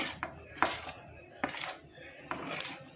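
Hot jaggery and sesame mixture stirred in a pan with a utensil, giving sparse scraping clinks and knocks at irregular intervals, fairly close and quiet.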